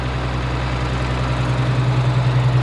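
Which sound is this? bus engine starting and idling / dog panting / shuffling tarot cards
bus engine starting and idling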